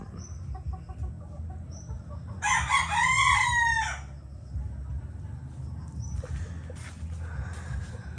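A fighting rooster crows loudly once, a long rising and falling call, with softer bird chirps and clucking around it in an outdoor setting.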